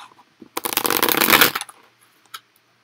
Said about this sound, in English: I don't know how to shuffle.